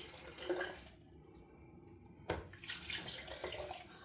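Water gushes from a tap into a sink to warm a razor, a close rushing splash that cuts off for about a second, then resumes at full strength with a bright spattering hiss.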